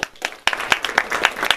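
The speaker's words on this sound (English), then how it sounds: "How about a round of applause?" A group of students in a school audience clap for a visiting speaker, a short burst of scattered, uneven handclaps close by.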